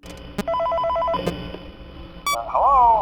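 A phone in the Five Nights at Freddy's video game rings in short electronic trilling bursts, loud and close, broken by clicks and game noises before a voice begins.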